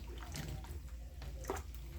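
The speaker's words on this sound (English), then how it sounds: "We put in water enough to boil them until they are well cooked." Water pours and splashes into a pot for boiling matoke in a home kitchen, a continuous close trickling slosh with faint background murmur.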